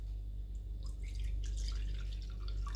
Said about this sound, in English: So what we're going to do is we're going to pour the jelly into these first.